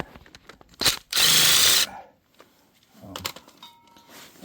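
A power drill spins out a bolt from the stand of a 1979 Honda CBX 1000 motorcycle in one short, close whirring burst, framed by metallic clicks and knocks before and after.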